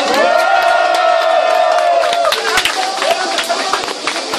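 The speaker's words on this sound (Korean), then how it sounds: "다시 한번 목소리있게 박수 부탁드리겠습니다." Crowd of elderly supporters at an outdoor political rally defending the National Intelligence Service cheering, shouting and clapping loudly and close, with sustained voices over rapid claps.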